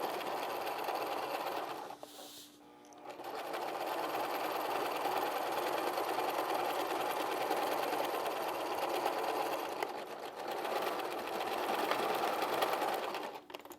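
A sewing machine stitching straight down the middle of an apron with a back-and-forth reverse, close steady whirring broken by a short pause early on and a brief slowdown later.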